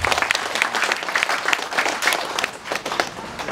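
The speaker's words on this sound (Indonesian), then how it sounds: "Mari kita beri tepuk tangan dulu untuk Pak Mamun Amir." Audience applause at a traditional Banggai ceremony marking the kingdom's anniversary, steady dense clapping filling the whole stretch at moderate loudness with no voices over it.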